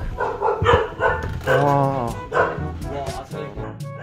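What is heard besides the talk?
dogs barking inside a building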